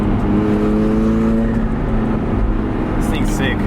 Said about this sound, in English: Turbo sounding nice.